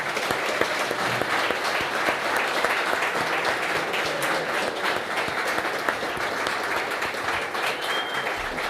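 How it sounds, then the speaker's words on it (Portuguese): A church congregation breaks into loud, sustained applause during a Catholic Mass homily for Christ the King, dense clapping filling the whole stretch with no pause. "Vamos dar uma salva de palmas"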